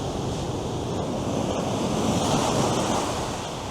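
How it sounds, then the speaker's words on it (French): Ocean waves break on the shore at San Francisco, a dense continuous roar of surf mixed with gusting wind buffeting the microphone, close and loud with no voices. "Il y a même des vagues jusqu'ici, là."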